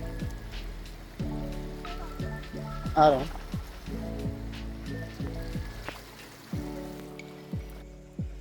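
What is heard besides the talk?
water flowing in a stream near Sajla Waterfall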